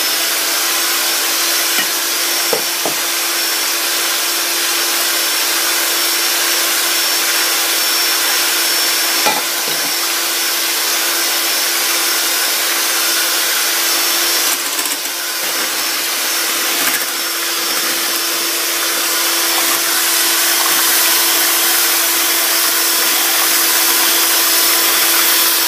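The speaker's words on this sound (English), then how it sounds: "On speed 2, very light whisk" Electric mixer whisking a sieved cake batter on low speed 2 in a bowl, a steady close whirring hum running unbroken throughout with faint clinks, no talking.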